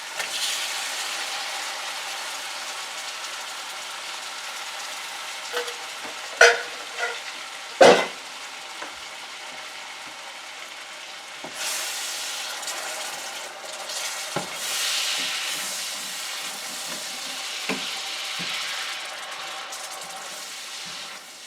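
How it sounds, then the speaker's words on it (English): Mushrooms sautéing in a pan with some juice added, a soft steady sizzle with occasional clatters and scrapes of stirring, no one talking. "you let those saute up pretty good"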